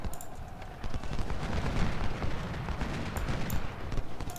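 Musket volleys in the Civil War strategy game Ultimate General: Civil War, a dense continuous crackle of massed gunfire rolling over several seconds with a low rumbling bed and scattered sharper reports, no speech.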